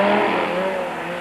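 Race cars in the 1997 Super Series roar past the main grandstand, their engines a loud, sustained, slightly falling note with a sense of nearby speed.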